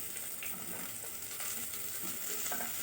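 Chopped red onions fry in a pan for a sardine dish, a steady, soft sizzle and hiss with faint stirring ticks throughout, alone and without voices.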